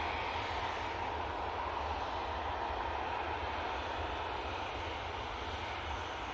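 A TUI airliner on the runway at Manchester Airport gives off a constant, even engine roar that neither rises nor fades, heard alone without talk.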